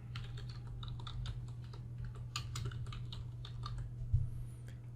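Fast typing on a computer keyboard, with quick, light key clicks in an uneven rhythm under a steady low hum, faint and close.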